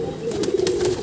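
Pigeons cooing nearby, a soft continuous low warble from a rooftop flock, close and fairly loud.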